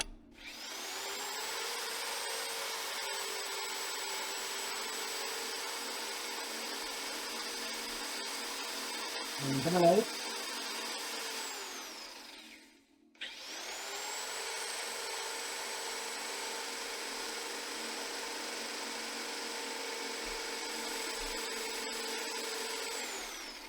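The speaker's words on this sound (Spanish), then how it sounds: "Vamos a arrancar el motor." A car engine starts and runs with an alternator connected, giving a steady droning whine that cuts out briefly midway with a thump, then spins back up and holds steady.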